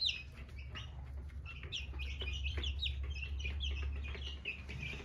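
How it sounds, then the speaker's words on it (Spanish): A flock of fifteen young chicks peep and cluck steadily while eating, their high chirps overlapping close by above a constant low hum. "Todos los pollos están comiendo."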